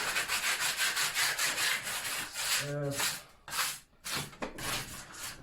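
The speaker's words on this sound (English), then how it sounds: "sand these bits as well" Rhythmic rasping strokes of sandpaper on wooden window shutters, fast back-and-forth rubbing close up, with a brief pause and a few slower scrapes near the end.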